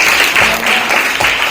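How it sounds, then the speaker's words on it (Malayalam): Loud, dense applause from an audience at a government school event in Thrippunithura, sustained clapping filling the whole stretch with small swells. "ഉറക്കെ കൈയടിച്ച് പറ"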